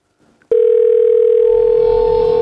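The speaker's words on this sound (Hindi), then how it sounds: "थैंक गॉड रिंग हो रहा है।" A telephone line tone starts abruptly after a short pause and then holds as a loud, steady, unbroken tone while a call is placed.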